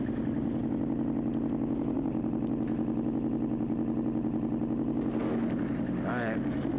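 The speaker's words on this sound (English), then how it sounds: "Loudest bike I got, man. But the fucked up one too." A loud motorcycle with a damaged engine idles steadily with a deep, pulsing throb close by, while a person talks over it near the end.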